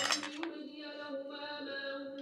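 Utensil clinking and scraping in a bowl while stirring a boiled potato mixture, a couple of sharp clinks at the start followed by a steady faint tonal hum, quiet and close.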